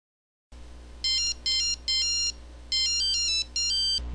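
A mobile phone ringtone for an incoming call starts after a short silence, playing clear bright electronic bursts in a repeating pattern, close and fairly loud, with no talking.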